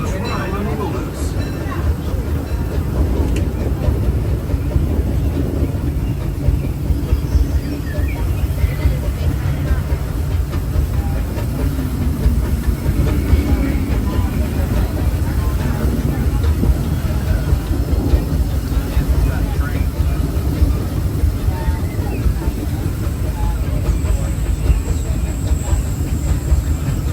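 The Disneyland Railroad train rolls steadily along its rails past the Rivers of America, a continuous low rumble with faint clicks and hiss, while people talk throughout.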